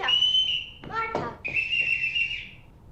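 Shrill whistle signals used to call the children in the 1965 film The Sound of Music: two long, piercing blasts separated by a brief voice.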